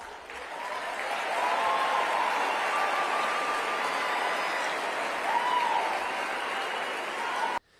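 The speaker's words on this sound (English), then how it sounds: "It doesn't sound like real applause." Sustained applause from a large crowd, a dense even roar of clapping with a faint tonal whine mixed in, holding steady for several seconds before cutting off abruptly.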